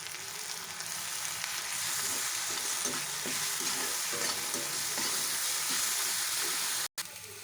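Ground shallots sizzle in hot oil in a pan while a spoon stirs them for a palak paneer masala, a steady close frying hiss with soft scraping strokes, ending in a brief cut near the end.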